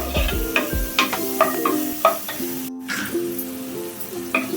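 Six or seven cut mushrooms sauté with garlic in a pan for white sauce pasta, with light sizzling and rhythmic spatula taps beneath tonal background music.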